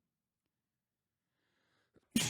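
A hard, forceful sneeze bursts out near the end, loud and close, after a short faint catch of breath, with near silence before it.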